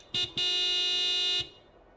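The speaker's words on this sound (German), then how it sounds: "wir haben Ihre Hupe repariert. Das hört man." A video game car horn sounds twice: a short beep, then a long sustained honk lasting about a second, bright and close.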